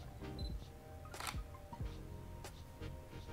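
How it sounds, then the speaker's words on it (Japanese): A camera shutter fires several times in an indoor room with a strobe lighting setup, sharp separate clicks spaced around a second apart over quiet room tone. "じゃこのままシャッター切っていきます。"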